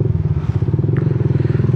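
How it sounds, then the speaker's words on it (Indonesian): A Yamaha Jupiter MX motorcycle fitted with a DBS racing exhaust idles close by, giving a steady, rapid, throbbing pulse with a loud low rumble and no voices. "Jadi seperti inilah suara knalpot harga 130-an."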